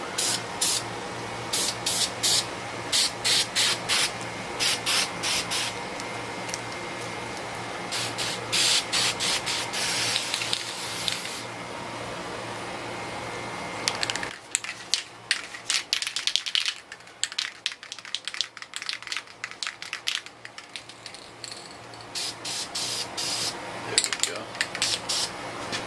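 Short bursts of aerosol spray lay a tack coat onto a scale model, repeated hissing pulses close to the mic with brief pauses between, then a quieter stretch before more spraying.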